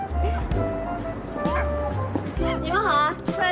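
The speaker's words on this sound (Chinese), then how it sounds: "出来遛狗啊，狗狗真可爱。" A pet dog on a walk gives repeated yips and whimpering barks among steady talk, with music playing underneath throughout.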